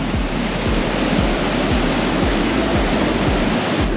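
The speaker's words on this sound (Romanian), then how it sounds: "Asta sunt valurile." Steady roaring surf washes continuously onto a beach at La Digue, Seychelles, with rhythmic low thumps of breaking waves beneath a dense hiss of foam.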